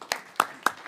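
Audience applause at a panel discussion, heard as three sharp, separate claps spaced evenly apart, close and fairly loud.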